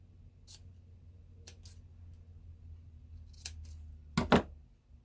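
Scissors trim the felt scarf of a cube snowman ornament, giving a few faint, brief snips across a quiet stretch, then a louder close cluster of cuts near the end.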